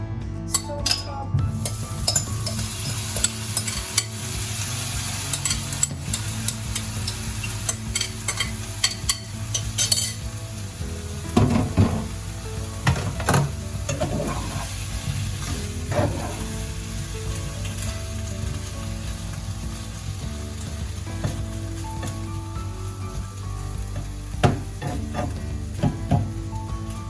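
Tofu sizzles and fries in a pan on a stove top, with a steady hiss broken by frequent scraping and clinking stirs of a utensil against the pan, close and moderately loud throughout.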